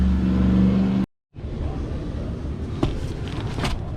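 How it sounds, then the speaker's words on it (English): A delivery truck arrives carrying the last tire, its engine rumbling steadily and close by, then cut briefly to silence before the rumble resumes, with a couple of faint clanks. "The truck just got here with the last tire"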